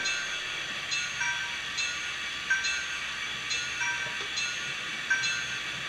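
A 00 gauge digital model train circles an upper track with a steady whirring hum and faint, evenly spaced clicks of wheels crossing rail joints, close by and alone.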